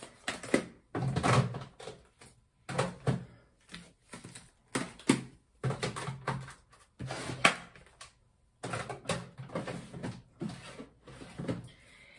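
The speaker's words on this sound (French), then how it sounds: "Donc je vais ranger en vitesse dans mon tiroir." Eyeshadow palettes being put away into a drawer: a quick run of clattering knocks, sliding scrapes and hard plastic taps close by, irregular and fairly loud, with no talking.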